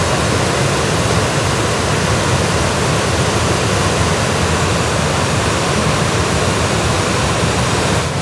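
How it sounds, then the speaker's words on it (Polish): Loud, steady roar of rushing water, like powerful fountains or a torrent, continuous and broadband throughout with no voices. "Strasznie dramatycznie to wygląda, te fontanny wody"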